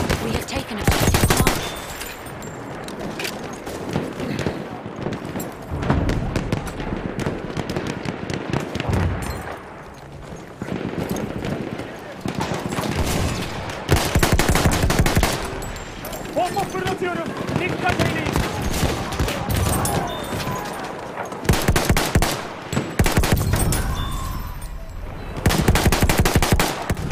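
Enemy machine gun fire in the first-person shooter Battlefield 1 rattles in long, loud sustained bursts with scattered explosions, continuous over a chaotic battlefield soundscape.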